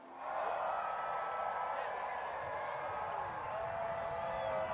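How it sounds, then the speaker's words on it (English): A stadium crowd at Saluki Stadium in Carbondale cheers during a total solar eclipse, a dense steady roar of many voices heard from within the crowd, held at an even level throughout. "the crowds are going nuts here in Carbondale at SIU at Saluki Stadium"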